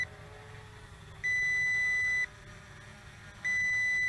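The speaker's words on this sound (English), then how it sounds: "check it out, it is beeping" Two steady electronic beeps from a Potensic D60 GPS camera drone remote control, each lasting about a second, separated by a short pause over a low background hum.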